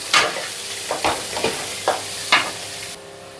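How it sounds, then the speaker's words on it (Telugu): Cashews and green chillies are stir-fried in a pan with a steady sizzle, broken by four or five scraping spatula strokes at a loose rhythm, close and clear, fading quieter at the end. "ఆ తర్వాత క్యాష్యూ, ఆ తర్వాత పచ్చిమిర్చి, వీటన్నిటిని ఒకసారి కలుపుకోవాలి."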